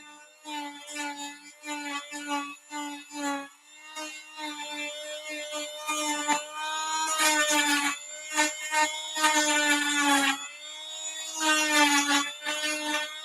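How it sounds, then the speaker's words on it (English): Power drill cutting into a GridIron Studios M113 model, a whining, pitch-shifting drone in short repeated bursts at first, then longer sustained runs, loud and close. "Is the drill too loud coming through your speakers?"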